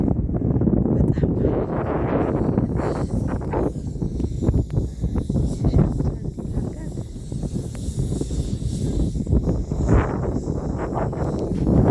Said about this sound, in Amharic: የሆነ ነፋስ አለ